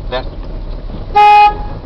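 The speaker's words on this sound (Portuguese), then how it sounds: "Buzina, aperta aqui, ó." A single short car horn honk, loud and close, after a moment of quiet background noise.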